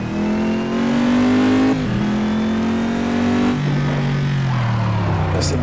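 NASCAR race car in Assetto Corsa, a loud, close engine droning at high revs with rising pitch, a shift-like drop, then sustained revving that sinks slightly toward the end.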